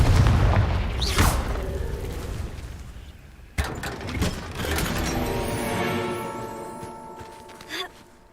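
A Confringo spell explodes in Hogwarts Legacy with a loud initial blast and a booming impact. A second sharp burst follows midway, then crackling, ringing debris fades out.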